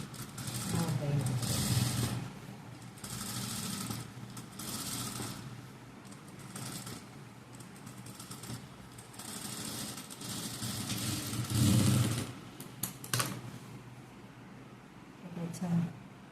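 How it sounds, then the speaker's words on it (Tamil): A sewing machine stitching around the neckline of a blouse, intermittent mechanical whirring runs of stitching heard close, mixed with handling sounds and a person speaking over it. "இப்போ சுற்றி தையல் போட்டு எடுத்துக்கலாம்."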